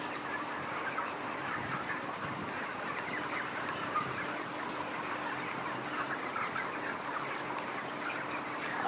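Chickens crowd a broiler poultry farm in a dense, continuous murmur of clucking, steady and moderately faint throughout, with no voices.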